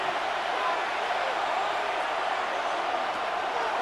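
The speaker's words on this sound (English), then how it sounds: "This crowd into it now as we get to 3rd down." Football stadium crowd at a Saints game on third down, a dense, steady roar of cheering and noise held at full level throughout with no single voices standing out.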